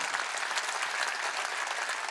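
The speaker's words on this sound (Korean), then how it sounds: "박수 치라." A church congregation claps at a Wednesday worship service, dense continuous applause from a large crowd, even and sustained throughout.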